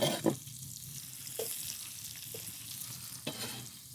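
Onion half-rings sizzle steadily in a pan with frying pork belly, with a few soft clinks and scrapes of stirring punctuating the hiss.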